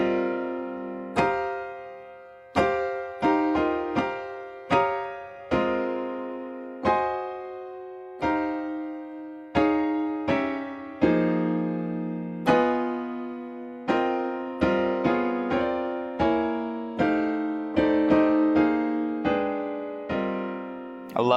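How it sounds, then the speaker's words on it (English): Piano chords in jazzy fourth voicings for a song, played as a steady run of struck, ringing chords with some quick repeated stabs, close and unaccompanied with no voices. "So here's the sound of 4ths."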